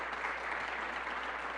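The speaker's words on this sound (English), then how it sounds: "Let's give her a round of applause for" An audience at a school reading event applauds the principal of the Albany School of Humanities, a brief, even burst of many hands clapping together.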